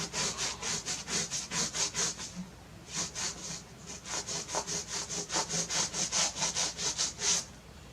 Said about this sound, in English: Give it a little saw here. Sawing motion.